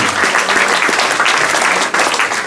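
Jazz concert audience applauding a trombone solo by a blues band, loud, dense and continuous clapping close up with a brief dip near the end.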